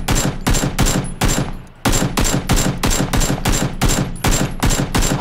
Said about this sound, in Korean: 330. 쏜다. 두 대, 세 대.